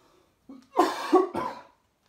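A person coughs three times in a short, husky sequence after inhaling sawdust. The coughs are close and clear against near silence.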